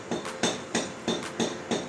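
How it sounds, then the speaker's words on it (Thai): A bolt is hammered into a steel roller bender frame with about six sharp metallic strikes at an even, steady rhythm, close and fairly loud. "ตอนนี้ก็เริ่มตอกแล้วครับ"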